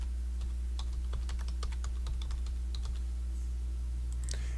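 Typing a formula on a computer keyboard for a solar toaster spreadsheet, a run of close, crisp key taps in irregular bursts over a steady low electrical hum, with no talking.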